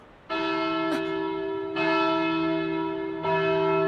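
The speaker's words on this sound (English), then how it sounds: "We'll randomly ring the bell just for kills." A bell in the Kingdom Hearts video game rings three times at an even pace, each strike loud and clear with a long sustained ring that carries into the next.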